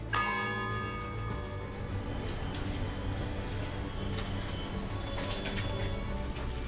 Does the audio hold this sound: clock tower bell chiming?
yes